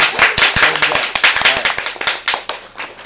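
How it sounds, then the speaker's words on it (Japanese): A small studio audience at a live-streamed music show claps loudly and unevenly, sharp individual hand claps close to the microphone with a few voices murmuring alongside. "拍手ガンガンやって拍手は"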